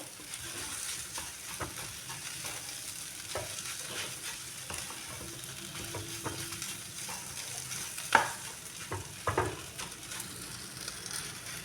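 A spoon stirs and mixes a carrot and potato snack mixture in a pan with a soft scraping, sizzling texture, steady and fairly quiet, with a couple of sharper knocks against the pan.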